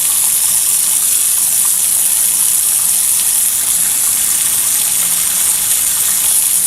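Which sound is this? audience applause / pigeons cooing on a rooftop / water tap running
water tap running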